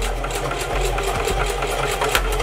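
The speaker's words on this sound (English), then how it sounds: "I'm going to push my reverse, and I'm going to sew it backward." A sewing machine runs in reverse, sewing an elastic band onto a glueless closure wig, a close, loud, steady motor whir with rapid needle thumps and a few knocks as it stitches backward, with no speech.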